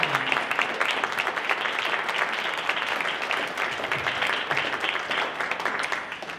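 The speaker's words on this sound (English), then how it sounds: "Special round of applause for this amazing man" A room full of people at a folk music association's annual general meeting claps steadily for several seconds, a dense, even applause that tails off slightly at the end.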